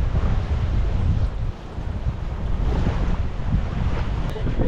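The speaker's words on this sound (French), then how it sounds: "Le vent est monté là." Wind and waves aboard a sailboat crossing the Gulf of Lion, a loud continuous rush of wind buffeting the microphone over sloshing water against the hull, with a brief lull midway before the gusts return.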